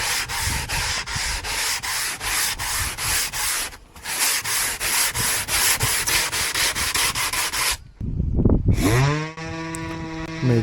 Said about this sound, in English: I am sanding self-drain deck to glue with plywood